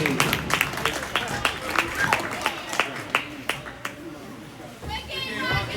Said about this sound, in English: One more round of applause for you guys.